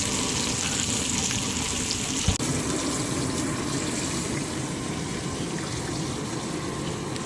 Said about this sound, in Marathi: फ्राय चालू आहे.